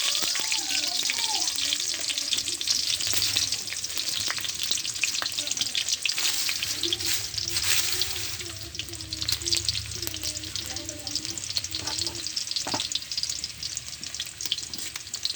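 Dried chilies, black cumin and chopped garlic sizzle steadily in hot oil with occasional stirring scrapes, a loud continuous crackle close up throughout.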